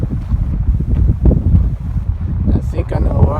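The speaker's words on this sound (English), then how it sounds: "The wind is starting to pick up a lot." Strong gusting wind on a Grand Canyon trail in May roars and buffets the microphone in a continuous low rumble, with a voice talking faintly underneath.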